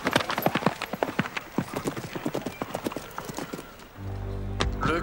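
Horse hooves clip-clop in a quick, uneven run of sharp close knocks during a show-jumping competition, ending with a low rumbling swell.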